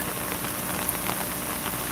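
Steady rain falls outdoors at a street protest in Minerva, a dense continuous patter with faint scattered drop ticks, close and even throughout, with no voices.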